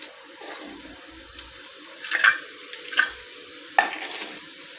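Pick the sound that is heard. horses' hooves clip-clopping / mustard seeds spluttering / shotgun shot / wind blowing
mustard seeds spluttering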